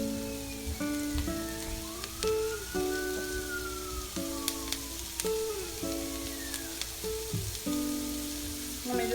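Vegetables for a one-pot pasta primavera cooking in a pot, a continuous close sizzle and bubbling hiss, with tonal kitchen sounds and a sliding whistle-like tone over it.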